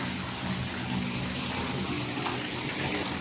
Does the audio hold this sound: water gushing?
yes